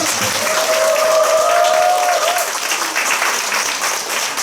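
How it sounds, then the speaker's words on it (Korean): An audience at an outdoor concert and song-release celebration gives loud, continuous applause, with a brief voice or tone sounding early on over the clapping. "박수로 큰 박수"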